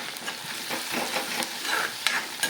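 Ginger and garlic fry in hot oil with onion and fish in a pan, a close, steady sizzle broken by spoon scrapes and stirring clicks, with no voices.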